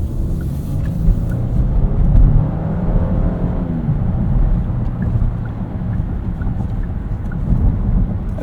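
A 2024 Genesis GV80 rolls over a bumpy road section, producing a loud, steady rumble of road and wind noise with occasional low thumps, heard from inside the cabin without talk.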